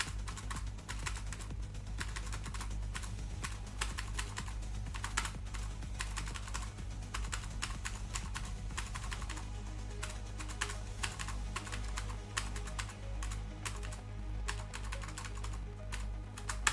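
A long, continuous run of computer keyboard typing at a Unity development desk, with crisp keystrokes tapping in busy, irregular bursts, close-miked and fairly soft, and no talking.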